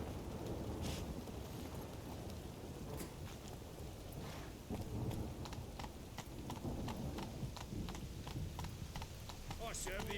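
Hooves of the horse Roach clip-clop steadily in The Witcher 3, a rhythmic trot heard under a layer of rain-like ambience, at moderate distance and fairly quiet.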